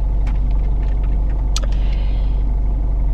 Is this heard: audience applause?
no